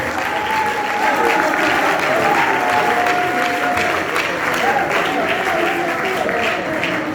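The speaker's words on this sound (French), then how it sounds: "Applaudissez très fort pour lui, s'il vous plaît." An audience claps and cheers for a student at a graduation-style ceremony, a continuous wash of applause with a sustained whistle or cheering tone running through it, steady and fairly loud throughout.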